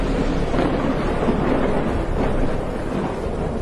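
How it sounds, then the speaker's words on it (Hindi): A loud, deep thunder rumble rolls on without a break, with rain hissing in the background. "तभी आसमान में जोरदार बिजली कड़की।"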